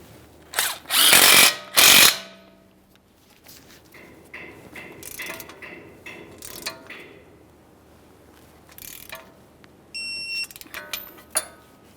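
A power tool snugging the control arm pinch bolt on a 2013-2020 Ford Fusion 2.0L I4, two loud short bursts near the start followed by quieter clicks and ratcheting, then a few high tonal beeps near the end.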